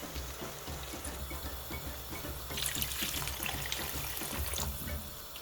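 Water running and splashing into a pot for a beef and potato stew, a steady close trickle that swells into a fuller pour midway, with no talking.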